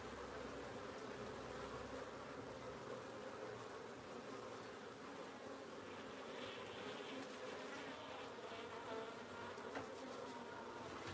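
Wild honey bees buzz in a dense, continuous swarm around a hive being transferred, with many overlapping wingbeats at a steady level; close and enveloping, with no talking.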